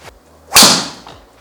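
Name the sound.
golf driver striking ball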